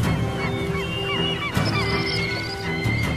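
Flocks of geese and other waterfowl honk and call over drifting sea ice off Japan where fishing boats trawl, a dense overlapping chorus of many birds at close to middle distance.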